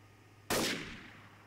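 A single sharp gunshot in the video game Garry's Mod, a faint, brief crack with a short decaying tail against quiet background.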